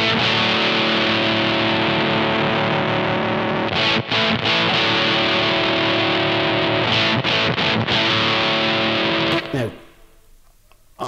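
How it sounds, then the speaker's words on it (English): Heavily distorted electric guitar through a Zoom Ultra Fuzz UF01 pedal into an amp's dirty channel, a thick, buzzing fuzz tone sustaining loudly, with a few choppy strums before cutting off into quiet noise. "Here is the fuzz pedal into the dirty channel on the reverb."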